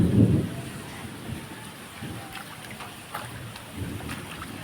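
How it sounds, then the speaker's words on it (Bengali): Light rain patters on a rooftop during a Kalbaishakhi storm in Bhola, with gusty wind buffeting the phone microphone and a few scattered drips, fairly soft and continuous. "দেখতেছেন বৃষ্টি পড়তেছে"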